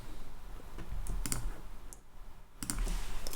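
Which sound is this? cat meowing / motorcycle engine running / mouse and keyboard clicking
mouse and keyboard clicking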